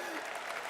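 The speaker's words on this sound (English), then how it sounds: "You can clap for that." Brief burst of steady audience applause, a dense even patter of many hands clapping at moderate volume, filling the whole moment without a break.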